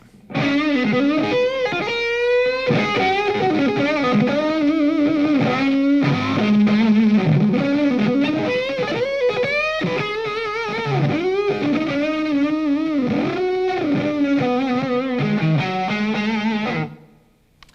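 A distorted electric guitar plays a sustained lead line, notes wavering with vibrato, loud and alone, ending abruptly.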